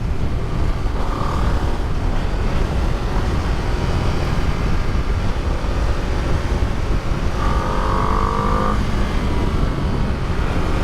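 Ducati Panigale V2 motorcycle engine at speed under a rider, a continuous droning rumble mixed with strong wind rush, steady and close, with no speech.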